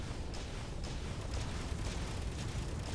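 Rockets fire and explode in the space combat game Space Engineers, heard as a dense, continuous roaring rumble with faint crackling blasts layered through it, loud and steady throughout.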